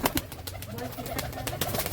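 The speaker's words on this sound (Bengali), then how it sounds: "এটা নর পায়রা আছে এটা খুবই সুন্দর" Soft, low male pigeon coos repeat through a steady background murmur, close by and fairly quiet.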